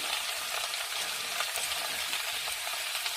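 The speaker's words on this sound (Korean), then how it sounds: "이 양배추에 이 약간의 기름이 묻어지도록 이렇게 코팅을 하시고는" Cabbage and green pepper stir-fried in oil, producing a dense, even sizzle heard close up with faint stirring scrapes throughout and no voices.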